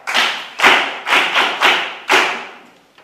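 An audience claps again in loud, closely spaced bursts, six or so strong waves of hand claps, each decaying before the next, with no talking.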